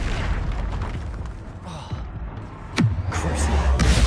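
Incendio fire spell cast in Hogwarts Legacy: a sharp whooshing burst with a deep boom near the middle, followed by a rumbling fiery roar that sustains to the end over a busy combat soundscape.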